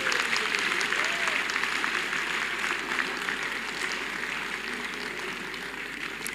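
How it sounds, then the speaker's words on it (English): An audience claps in a hall at a university anniversary event, sustained dense applause that stays loud and gradually eases slightly over six seconds. "Clap for him as you are in Ududua Hall here."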